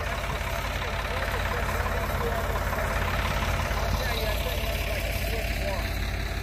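A Ford tractor engine runs steadily during an all-Ford tractor drive in Lisbon, Ohio, a continuous low rumble heard close by with voices talking over it.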